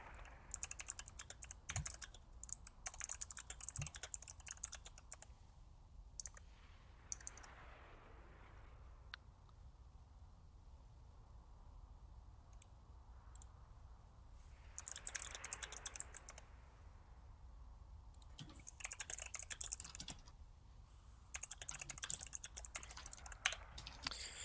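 Quiet typing on a computer keyboard comes in clusters of rapid, close key clicks, separated by long pauses with low background hum and no speech.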